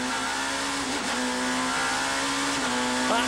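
BMW and other touring race cars at the 1994 Touring Car World Cup, heard as a loud, sustained engine drone that rises in pitch as they accelerate out of a hairpin.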